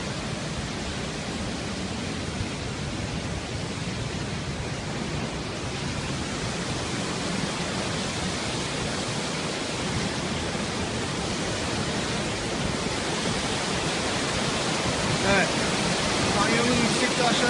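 The Yalova twin waterfall pours through a rocky canyon, a steady, dense roar of rushing water that fills the whole stretch without a break, loud and constant from start to finish.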